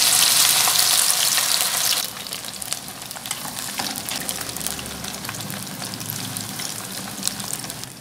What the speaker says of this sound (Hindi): ऑयल हल्का सा गर्म हो जाए तो इसमें फिश ऐड करें।